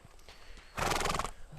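A 17-hand horse being halter broken whinnies loudly for about half a second after a quiet stretch with faint shuffling.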